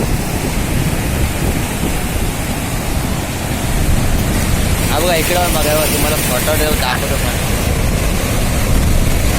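Strong sea waves surge and crash at Nandgaon beach in Konkan, a loud continuous roar of surf with a swelling wash midway, under someone talking close by.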